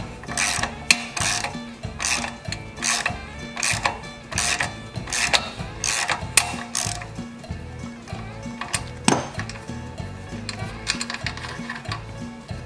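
Threading a Heli-Coil insert into a stripped hole with the install tool, heard as a close, continuous metallic ratcheting and clicking with sharp periodic ticks and a scraping mechanical texture, no voices.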